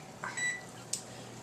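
Kitchen oven timer being set for a cake bake: a few short electronic beeps, including a held tone, then a brief sharp click, close and clear over quiet room hiss.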